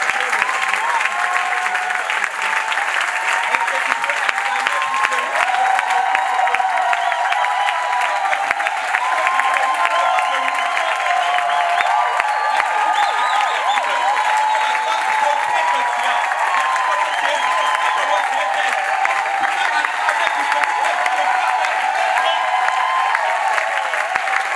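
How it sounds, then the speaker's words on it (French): A church congregation at a large 2018 retreat applauds and cheers in praise of the Lord, producing sustained dense clapping with voices mixed in, steady and loud throughout. "Est-ce qu'on peut encore bien acclamer pour le Seigneur?"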